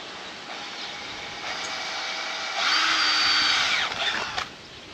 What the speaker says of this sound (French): Donc là on vient percer les profilés.